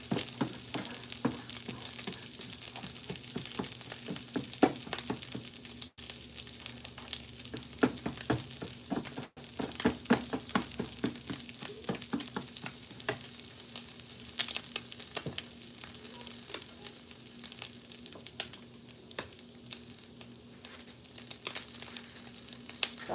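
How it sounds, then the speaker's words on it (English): Bacon fries on low heat in a pan, giving a steady close sizzle with constant crackling pops and spits throughout, never pausing. "Cook the bacon on low at a burn."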